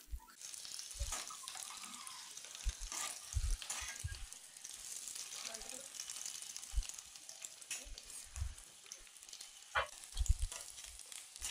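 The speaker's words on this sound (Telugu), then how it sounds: "గుడ్లు గోల్డెన్ కలర్ వచ్చేంత వరకు వేగనీయండి" Eggs fry in a pan until golden with a steady close sizzle, broken by occasional soft stirring knocks and spatters, with no talk over it.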